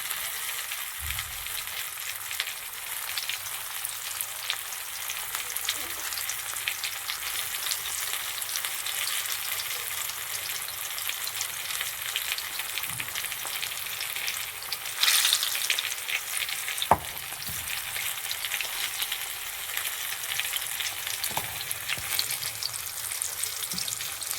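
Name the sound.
pea kofta frying in oil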